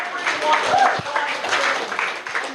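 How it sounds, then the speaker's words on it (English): Clapping from an audience at a business gathering, a short burst of hand claps with voices talking over it, moderately loud and close. "Or round of applause, or both."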